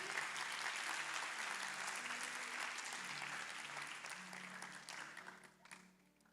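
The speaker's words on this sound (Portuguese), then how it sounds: "Vamos aplaudir Jesus por isso." Congregation applause at a church youth service, a dense wash of many hands clapping that starts loud and slowly thins and fades over several seconds, with no talk over it.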